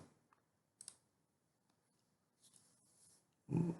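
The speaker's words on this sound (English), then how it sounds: "Left click, right click." Computer mouse buttons click a few times at a desk while working in CorelDraw: two or three sharp, close, quiet taps separated by near silence, with a faint rustle midway.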